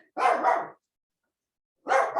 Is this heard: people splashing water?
no